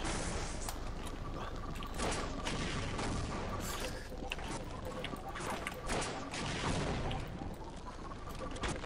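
Rapid bursts of video game gunfire crackle across a small multiplayer map, sharp shots coming in quick clusters with louder cracks and mechanical clatter between them, under a dense, busy mix.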